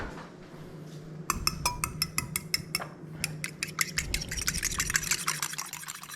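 A whisk or fork beats eggs in a bowl, making a quick series of bright metallic clinks, rhythmic and close, that speed up into a rapid clatter.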